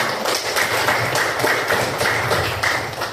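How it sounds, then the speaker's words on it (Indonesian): A classroom of students claps together for everyone, a dense, steady burst of hand claps close by that carries on for about three seconds with no talking over it. "Tepuk tangan untuk semuanya"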